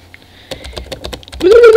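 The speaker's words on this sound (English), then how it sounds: "Spam the keyboard. Give it a go." Rapid, close clacking of keys on a computer keyboard in a quick irregular burst, followed by a sustained tone at the end.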